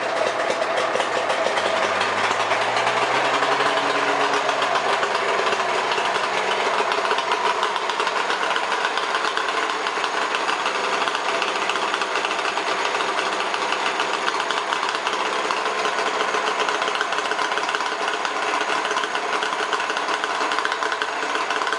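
Polaris drag sled engine running continuously on race gas, a steady, loud, high-pitched mechanical roar with a low tone that briefly sweeps upward near the start, no voices over it.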